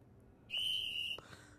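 A character in the video game Sherlock Holmes: The Awakened whistles a single steady high note lasting under a second, clear and fairly loud against a quiet background, with a faint click after.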